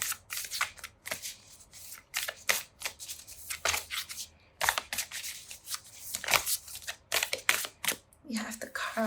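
Hanafuda cards are repeatedly shuffled and drawn, making a string of crisp flicks and slaps at an uneven rhythm, close by, with soft speech throughout.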